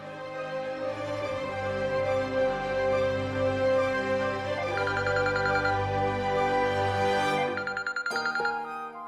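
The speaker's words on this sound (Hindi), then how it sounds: "विकी का फोन है।" A melodic phone ringtone plays steadily, a sustained tune with brighter chiming notes near the end, no talking over it.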